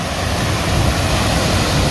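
A small spring-fed creek in the southwest Missouri countryside, flowing with a steady, loud broadband rush that holds constant for the whole stretch with no breaks, no talking and no other sounds over it.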